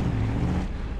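A turbocharged van in BeamNG.drive accelerates with a steady, loud low engine drone and a rough, roaring rumble that does not let up over a brief stretch.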